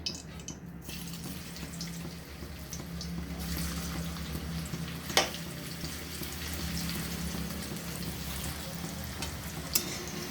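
Chicken pieces frying in hot oil for chili chicken, a continuous close sizzle and crackle with a couple of sharp clinks from utensils, steady throughout with no talking.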